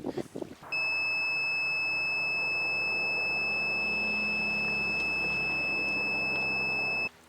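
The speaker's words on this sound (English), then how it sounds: "It was the alarm on that dag-blasted jump starter telling me that I was out of battery" A portable jump starter's low-battery alarm sounds as one continuous high-pitched electronic tone, steady and fairly loud, holding for about six seconds before cutting off abruptly, heard outdoors at night while fishing.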